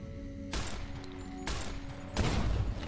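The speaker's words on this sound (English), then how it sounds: "Heavy machine gun." Heavy machine gun bursts in Fallout: New Vegas, three loud broadband volleys of rapid fire, each roughly a second long, separated by short pauses over a low background hum.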